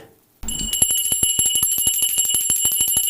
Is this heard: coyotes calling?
no